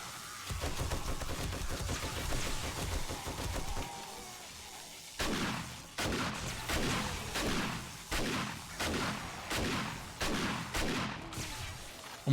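Shotgun slug rounds fired in the zombie survival game 7 Days to Die: a steady rumbling barrage, then a series of loud, evenly spaced heavy blasts about one per second.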